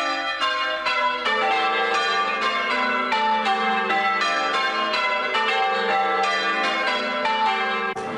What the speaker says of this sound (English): Bringing the changes, treble bell to tenor, unites young and old.